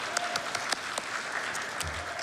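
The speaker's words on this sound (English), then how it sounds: "So can we give her a round of applause?" A synagogue congregation at a Friday night Shabbat service gives a warm round of applause for a longtime teacher who is retiring, steady moderate clapping throughout with a few louder individual claps.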